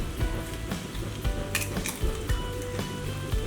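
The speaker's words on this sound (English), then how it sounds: "Now we'll just crack a couple of eggs here on top and see how this goes." Sausage and potatoes fry in a skillet with a steady close sizzle, broken by light clinks and taps of a utensil against the pan as eggs go on top.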